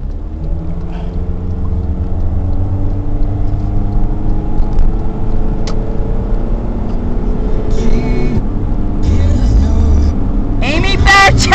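Steady engine and road rumble from inside a moving car, loud and continuous with a low drone, with brief clicks and a voice heard near the end.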